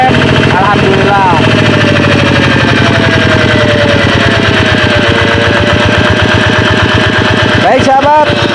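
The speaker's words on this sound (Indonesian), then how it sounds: "Ini kita naikkan RPM" A Kubota RD 85 diesel engine, a single-cylinder unit reported as low on power, runs with a loud, steady rapid chug that climbs slightly in pitch as it revs, close by, with someone speaking over it.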